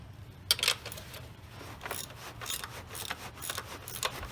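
A hand ratchet with a 13 mm deep well socket loosens a bolt on a 2000-2005 Chevrolet Impala with a 3400 engine, giving faint, quick rows of clicks in short bursts against a quiet background. No one speaks.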